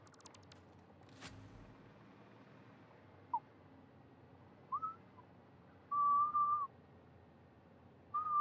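A person whistles a few short, faint, high notes, with a slightly longer held tone near the end, against a quiet background.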